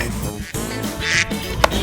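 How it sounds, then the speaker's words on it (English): A farm duck quacks a few quick times at close range, short and loud, with no voices. "Duck."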